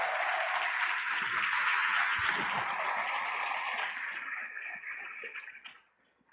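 Church congregation applauding the Lord at a sermon, a sustained crowd of clapping that holds steady and then fades out at the end.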